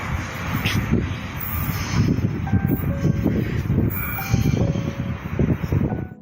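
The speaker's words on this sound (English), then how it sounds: "after a while we hear a train approaching, even though we can't see it" An unseen train approaches in the distance as a rumbling low roar under gusty wind noise on the microphone, with faint thin tonal squeals coming and going.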